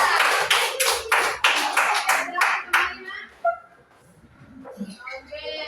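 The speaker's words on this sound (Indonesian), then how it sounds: "Oke, beri tepuk tangan untuk kelompok" A classroom group applauds a presenting student team, dense fast clapping for about three seconds, then it dies away into quieter room noise and brief voices.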